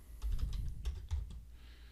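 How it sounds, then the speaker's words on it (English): Quick burst of typing on a computer keyboard into a search bar, a rapid cluster of close, soft key clicks lasting under two seconds with no voices. "We either can type it in here at the search bar"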